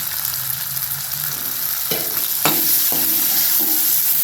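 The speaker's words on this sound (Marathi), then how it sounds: "कांदा आपल्याला लालसर भाजून घ्यायचे" Finely chopped onion frying in a pan with ground green chili and garlic, a constant loud sizzle close by, broken by a few scraping stirs of a spatula in the second half.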